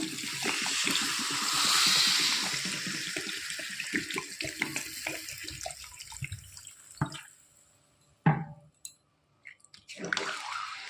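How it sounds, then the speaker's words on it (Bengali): Water poured into a cooking pot for a katla fish curry with potatoes and stems: a loud, gushing pour that fades, then a few brief splashes and drips with short silences. "দিয়ে দেবো জল।"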